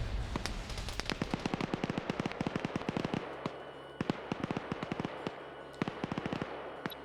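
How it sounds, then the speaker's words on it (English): Grenades detonate repeatedly inside a room in a competitive video game match, a dense run of sharp, loud blasts in quick irregular succession, with brief pauses and a few more scattered bursts toward the end. "They are still nading the room."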